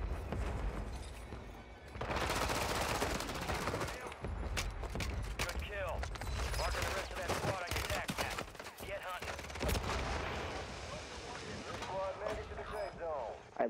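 Rapid gunfire and explosions in the shooter game Warzone 3, dense overlapping shots and bursts crackling continuously at close range, with voices talking over the fight throughout.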